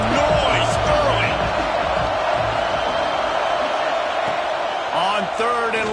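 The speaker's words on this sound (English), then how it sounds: "This crowd bringing the energy and noise early." A roaring football stadium crowd at an Eagles game keeps up a dense, steady wall of cheering and noise that fills the whole space, with a commentator's voice heard over it.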